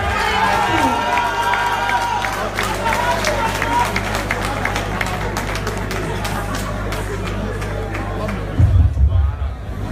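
Crowd applause and cheering welcoming an honourable guest at a launch event in Abobo, a loud sustained roar of clapping and voices with babble throughout.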